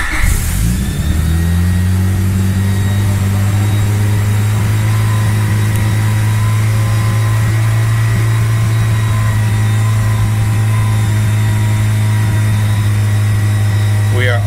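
A Honda D16 turbo engine idles high at around 3,000 RPM, a loud, steady drone just after startup. A thin whistle runs above the hum. No voices are heard.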